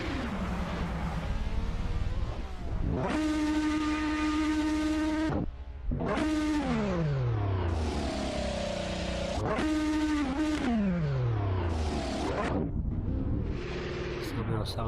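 Simulated race car engines sound through a sim racing festival run of the Goodwood hillclimb: loud, revving tones that sweep up and down in repeated bursts as the cars accelerate and shift, with brief lifts between them.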